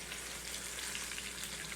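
A steak fries in a frying pan with a steady, crackling sizzle, fine popping spatter close by and even in level throughout, with no voices.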